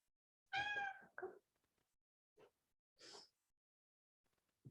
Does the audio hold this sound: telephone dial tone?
no